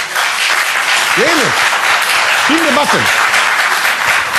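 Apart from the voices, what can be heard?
audience applause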